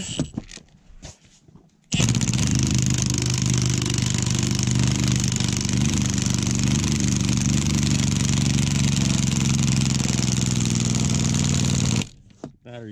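A Corvette engine runs steadily and loudly for about ten seconds, a sustained close drone beginning abruptly after a short stretch of quieter workshop noise and cutting off near the end.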